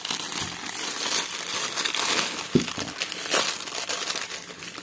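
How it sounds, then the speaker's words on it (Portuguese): A plastic AliExpress package holding fishing rods is torn and cut open, giving continuous close crinkling and rustling with a couple of sharper crackling snaps. "Vou rasgando e cortando, né?"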